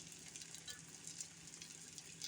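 Vegan scallops sautéing in a pan, a faint, steady sizzle and light crackle across the short stretch, ending with a brief sharp clack, no voices.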